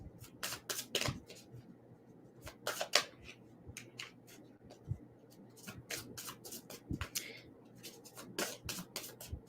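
Tarot cards being shuffled and pulled, crisp riffling bursts and soft papery slaps in irregular clusters, close and quiet against a faint background hum.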